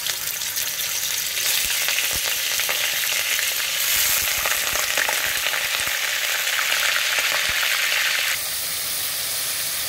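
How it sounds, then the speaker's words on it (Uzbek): Meat frying in hot oil in a cauldron (qozon) for Uzbek dimlama, a loud, steady sizzle that fills the whole stretch, with soft scraping from stirring and a slight drop in intensity near the end. "Endi birinchi mana bu go'shtni qozonga qora olamiz."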